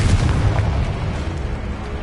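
A Confringo blasting spell goes off in Hogwarts Legacy as a loud, booming explosion whose low rumble carries steadily through the whole two seconds.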